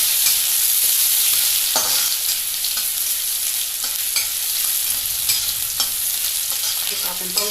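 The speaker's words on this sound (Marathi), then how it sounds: "1 कांदा बारीक चिरून टाकलेला आहे। याला आपण चांगलं तळायचं, थोडंसं गुलाबी होईपर्यंत।" Finely chopped onion frying in a pan as the base for vermicelli upma gives a loud, close, continuous hissing sizzle, broken by several sharp stirring scrapes against the pan and no speech.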